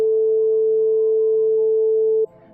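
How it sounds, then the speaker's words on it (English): A pure 440 Hz sine test tone plays loud and perfectly steady for about two seconds, then cuts off abruptly, leaving faint low hum. "Generate tone. Sine wave, frequency,"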